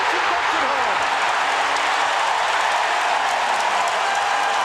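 Basketball arena crowd at a Bulls vs Heat playoff game in Miami roaring after a Heat basket, a loud sustained wall of cheering and applause filling the whole stretch.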